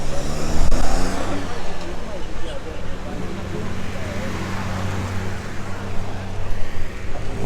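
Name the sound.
racing car passing on track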